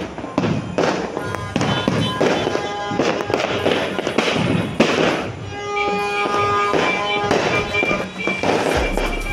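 Kwitis skyrocket fireworks going off outdoors in a dense, continuous barrage of loud crackles, pops and whistling bursts, with many overlapping explosions near and far.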